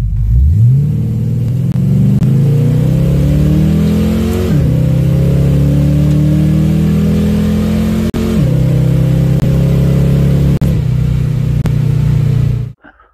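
A 1980s Ford Foxbody Mustang with a 350 crate engine rated at 330 horsepower launches on a drag pass, loud and close, its engine note climbing through two gear changes before cutting off abruptly at the end.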